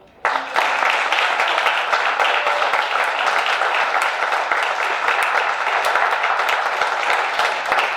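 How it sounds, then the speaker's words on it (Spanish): Applause from a live audience at a talk or panel event starts suddenly and carries on as steady, dense clapping for several seconds, with faint voices underneath. "Un aplauso."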